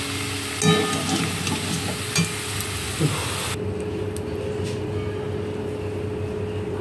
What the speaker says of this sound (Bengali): আলুটা খুব সুন্দর করে লাল লাল করে আমি ভেজে নিয়েছি